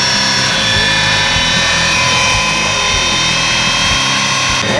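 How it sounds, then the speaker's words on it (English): An angle grinder runs continuously as a high, steady whine with a dense buzzing roar beneath it, close and loud throughout the whole stretch, with no one speaking. "Angle grinder. Angle grinder. Angle grinder."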